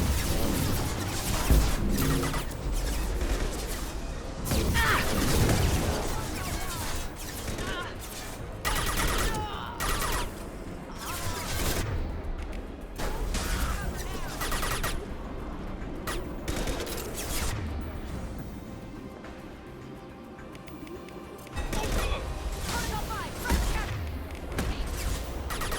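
Gunfire and explosions from the video game Mass Effect 2 come as dense bursts of shots, crashes and booms over the full length, with voices calling out at times among the chaos.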